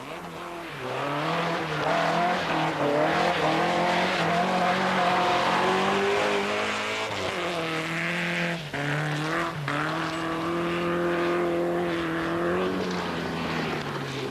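An Opel Kadett rally car drives hard on a 1986 Iceland rally stage, its engine droning loud and close without a break, with pitch sweeps as it revs and shifts gears.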